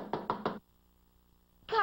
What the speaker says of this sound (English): Just then there was a knock.